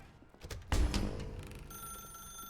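An old-style telephone bell rings inside The Stanley Parable video game, a sharp ring that starts abruptly and then decays into a steady ringing tone under quiet ambience.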